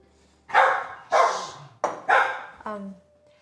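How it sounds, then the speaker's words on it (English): A very loud dog barks in a home kitchen where whole wheat bread is being made: four sharp, close barks in quick succession, ending in a brief higher-pitched whine. "Very loud dog."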